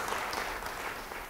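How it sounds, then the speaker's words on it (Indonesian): A church congregation claps together at a sermon, a brief, dense burst of applause filling the room at moderate loudness. "Yang bisa, beri tepuk tangan sekali lagi yang baik buat Tuhan."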